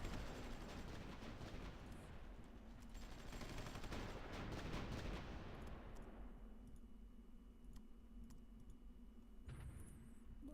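Artillery fire in the war strategy game Supreme Ruler Ultimate, a dense continuous rumble of booms and crackling bursts that thins out partway through into sparse distant pops over a low hum.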